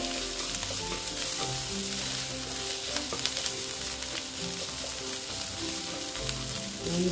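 Potato and flour snack batter sizzling steadily in a hot pan, a constant close frying crackle with no talk.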